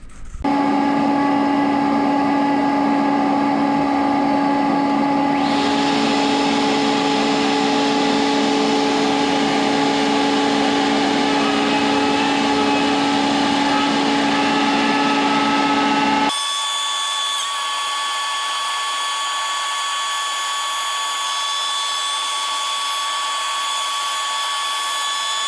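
Shaper Origin handheld CNC router with a 3/4 inch bit cutting into ash wood, a loud steady whine that shifts pitch partway through, then the cutter stops and only the spindle's tonal hum continues.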